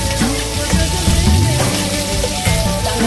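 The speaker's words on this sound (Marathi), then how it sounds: "चांगलं भाजून घेऊया." Ginger and garlic frying in hot oil, a loud continuous crackling sizzle with bubbling pops throughout, close up and without talk.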